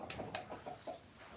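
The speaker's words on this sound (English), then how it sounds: "The chickens are being actually really quiet for them." A few soft, quick clucks from chickens, close by and fairly quiet, in short bursts.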